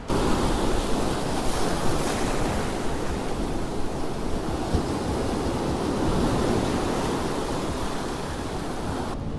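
Waves wash onto a fossil-hunting beach in a continuous broadband rush of surf, mixed with gusty wind buffeting the microphone, loud and steady throughout without speech.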